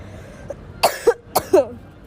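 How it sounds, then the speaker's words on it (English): Two pairs of harsh, close coughs in quick succession, each burst sharp and loud against a quiet background. "I'm just gonna keep coughing"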